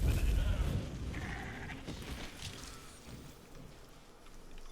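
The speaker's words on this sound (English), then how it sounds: "Let's grab a sheep." Sheep bleating inside a video game, a couple of short wavering bleats standing out over a busy, rumbling game backdrop, fairly close and moderately loud.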